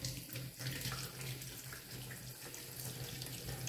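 Water runs steadily from a kitchen tap, rinsing freshly peeled vegetables such as tomato in a sink, a constant soft splashing stream, close and quiet, with no talk.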